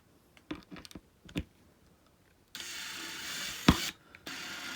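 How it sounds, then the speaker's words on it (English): A powered screwdriver drives screws into a dresser during assembly. A few short clicks and knocks come first, then a steady buzzing whir of the driver running slowly, close and clear, with no voices. "I'm using this screwdriver real slowly because it's powerful"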